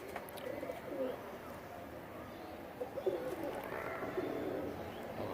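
Soft pigeon cooing from a prized racing-style pigeon kept among mixed breeds, low murmuring coos repeating faintly against steady background noise, with no talk over it.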